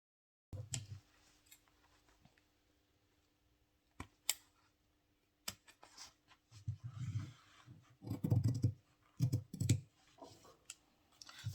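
Scissors snip through a sewn fabric trouser seam in short close bursts of crisp cutting clicks, sparse early on and then quicker and louder toward the end, with quiet pauses between.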